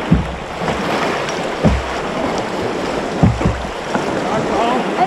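Canoe paddles back-paddling on open water during a wilderness canoe camping trip, a few soft strokes spaced roughly every one and a half seconds over steady wind and water wash.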